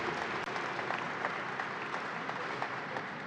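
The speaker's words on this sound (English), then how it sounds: "So, round of applause right there." Audience applauding at the opening of the 2023 Great New York State Fair, a steady, dense wash of clapping from a sizable crowd, even and sustained throughout without talk.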